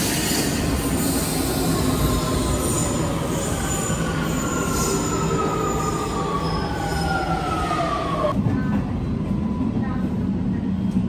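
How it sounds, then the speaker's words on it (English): A Rome metro line B subway train rolls through, its wheels squealing in long rising and falling tones over a steady rumble and clatter. The noise is loud and continuous and ends abruptly. "We are now at subway B, and we have to take the train for Laurentino."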